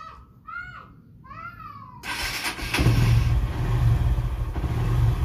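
A Honda Verza motorcycle engine, just fitted with a CB150R fuel filter, kicks in and revs to a steady loud drone after a cat meows a few times nearby.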